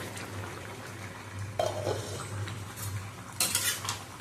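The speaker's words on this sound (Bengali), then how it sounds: "নেড়ে চেড়ে নিলাম" Ridge gourd and potato fritters are stirred in curry in a pan, with a low simmering hiss under a few distinct spoon scrapes and clinks against the metal, and no speech.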